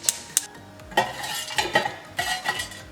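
Cardamom seeds and whole spices are stirred as they roast in a pan over low heat, with a utensil scraping and clinking against the metal in a few distinct bursts, close and moderately loud with no talk.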